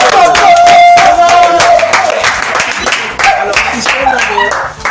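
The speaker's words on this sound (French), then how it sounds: "Est-ce qu'on peut applaudir?" A radio studio audience applauds a visiting theatre company with loud, dense clapping, mixed with voices, cheers and a little laughter from the crowd.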